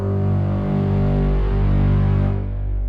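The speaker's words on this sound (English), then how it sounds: "I added another double bass, layered that with the Stack by Spitfire, which sounds like this." Deep layered orchestral low end from a double bass stacked with a Spitfire Stack sample library, a sustained, steady rumbling bass tone heard alone for about three seconds, fading slightly at the end.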